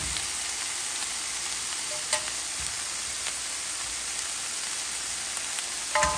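Gochujang-coated pork belly fries in a pan with a steady, dense sizzle and crackle throughout, punctuated by a few brief pops and spatters, close up with no talking.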